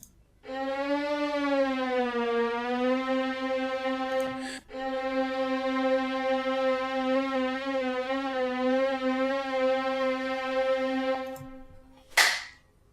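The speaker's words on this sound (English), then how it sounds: "I can draw something in like this to make the pitch go up, something like this to make it go down." A synthesizer tone in computer music software, rich in harmonics, holds steady and then bends slowly up and down in pitch, with a brief break in the middle and a sharp click at the end.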